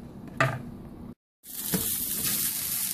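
Onions fry in a pan with a little salt for a cheese steak, a close sizzling hiss broken by a brief silence before a louder, brighter sizzle returns, with a couple of stirring scrapes.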